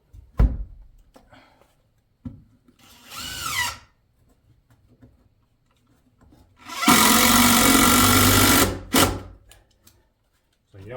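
A power drill drives screws into a roof rafter during a house flip roof repair, with a short whir followed by a longer loud sustained grinding burst, close by, and quiet pauses between.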